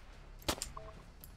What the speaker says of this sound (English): how many shots of a shotgun was that then?